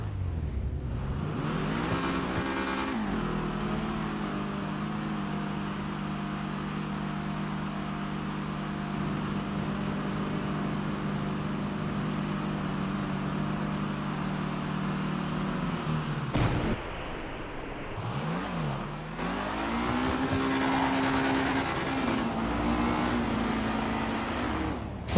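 Drag race cars at a Street Outlaws No Prep Kings event rev loudly and steadily at the starting line, engines droning near and constant with sharp throttle blips and a brief cutoff before revving resumes.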